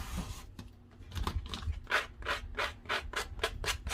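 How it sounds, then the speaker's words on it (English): A dollar store craft piece is hand-sanded in quick, rhythmic back-and-forth strokes, roughly a dozen close scratchy rubs that grow steadier toward the end, with no talking. "And just sand it down just a little bit."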